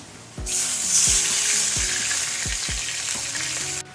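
Water poured into a wok of frying onion and garlic sets off a sudden louder hiss that holds steady, while a spatula scrapes and taps the pan every second or so before the sound cuts off.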